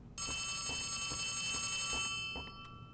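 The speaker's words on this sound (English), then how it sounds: "this phone's loud as fuck" A loud telephone bell rings in Poppy Playtime Chapter 3, sustained bright electronic ringing with steady pulses that runs nearly the whole time before tapering off near the end.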